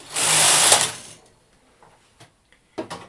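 Brother knitting machine carriage pushed across one row, a loud rushing slide of about a second that fades out, followed by a few faint clicks and knocks.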